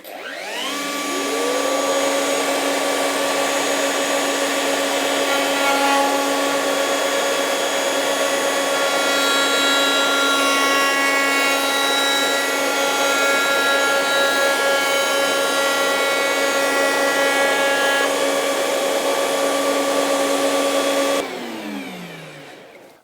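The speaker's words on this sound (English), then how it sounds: "when you're doing these cuts on a router table" Router table cutting a piece of wood, a loud, steady high-pitched whine that spins up, holds for about twenty seconds as the cut is made, then winds down.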